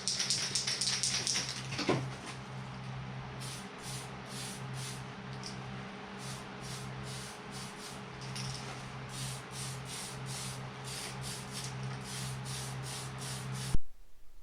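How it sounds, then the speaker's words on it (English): Spray paint cans hiss onto a masked Axial F100 RC truck body in a long series of short, regular bursts over a low steady hum, ending with a clunk. "Time to grab some cans and spray."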